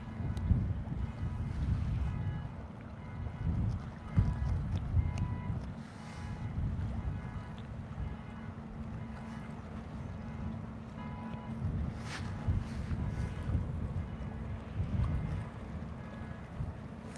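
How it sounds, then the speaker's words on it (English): Low rumbling engine of the lake freighter Paul R. Tregurtha departing Duluth, Minnesota, a steady deep drone heard at a distance under wind buffeting on the microphone. "Let's listen to the motor and hopefully a horn exchange."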